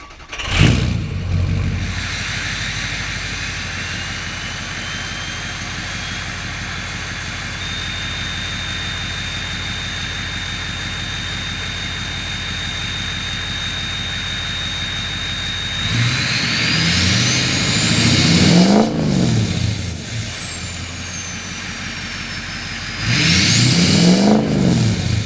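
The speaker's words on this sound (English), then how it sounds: "I'll put a clip in here for the exhaust sound." A 2007 Ford F350 with the 6.0 Powerstroke diesel idles with a steady rising turbo whistle, then revs up twice in loud roaring bursts with jet-like turbo spooling, recorded close with no talking.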